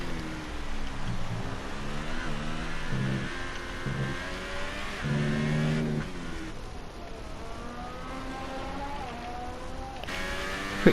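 A race car in qualifying at the Abu Dhabi round runs down the back straight with DRS open, its engine tone sweeping upward through gear changes and holding a steady, loud whine without talk.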